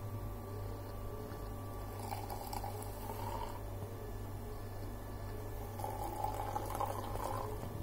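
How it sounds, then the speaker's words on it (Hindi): Water poured little by little into a sattu drink mix, a soft steady liquid trickle and splash heard fairly faintly and close, with no talking over it. "अब इसमें डालूंगी मैं थोड़ा थोड़ा पानी।"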